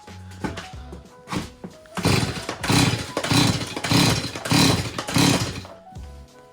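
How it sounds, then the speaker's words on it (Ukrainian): A saw is started: a few pull-cord tugs, then the engine catches and revs loudly in repeated bursts before settling back. "Треба пилку завести."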